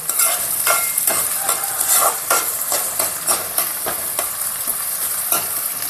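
Onions and green chillies frying and being stirred in a pan give a steady close sizzle, with a spoon scraping and clacking in irregular strokes throughout and no talking.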